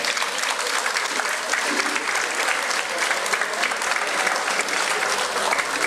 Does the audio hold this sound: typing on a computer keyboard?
no